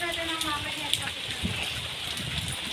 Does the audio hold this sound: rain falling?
yes